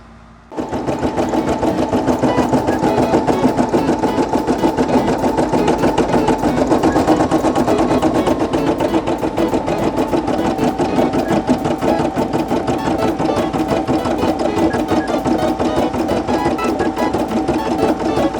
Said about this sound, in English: This is satin stitch going around right now, no understitch.